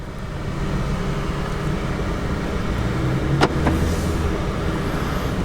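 Volkswagen Jetta S on the road, heard from inside the cabin as a steady, moderately loud broadband rumble of engine and tyre noise, with a couple of brief sharp ticks near the end and no talk.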